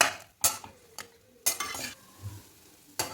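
Dates being stirred and roasted in a pan until soft, with a soft sizzle beneath repeated sharp scrapes and clinks of a spatula against the pan at an uneven pace, nearby and fairly loud.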